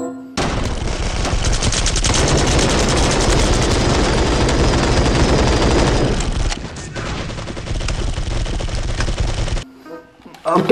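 Loud bursts of rapid automatic gunfire in the video game Jurassic World Evolution 2 blaze almost continuously for several seconds, then cut off abruptly into near silence.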